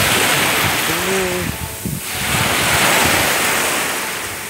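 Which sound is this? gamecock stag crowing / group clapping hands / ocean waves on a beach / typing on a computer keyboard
ocean waves on a beach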